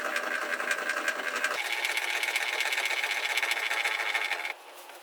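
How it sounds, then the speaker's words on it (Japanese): A DeWalt DWE7485 compact jobsite table saw's adjustment wheel is turned to raise or lower the blade, giving a steady, close mechanical whir that shifts in tone partway through and drops away just before the end. "調整ホイールを回すとブレードが上下します。"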